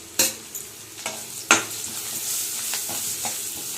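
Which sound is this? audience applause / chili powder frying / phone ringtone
chili powder frying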